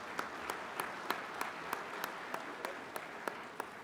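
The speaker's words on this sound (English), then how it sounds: "Please, a round of applause for our panelists." A conference audience gives a round of applause for a panel of speakers, steady hand clapping at moderate distance, running alone for a few seconds.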